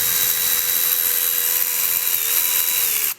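A power tool spins out engine bolts on a 2015 Range Rover Evoque during variable valve lift replacement, a steady high whine held close and loud for the whole stretch, dipping slightly in pitch near the end before cutting off.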